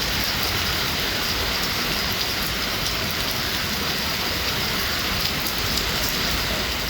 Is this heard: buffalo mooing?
no